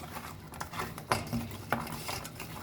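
Crab being tossed with marinade in a bowl: soft, close clinks and wet patters of pieces and utensil against the dish, with a couple of sharper knocks amid quiet stirring.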